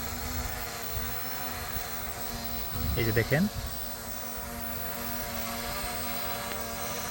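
A Xiaomi 908 Max drone flies outdoors in strong wind, holding a steady droning buzz throughout. Someone talks briefly partway through.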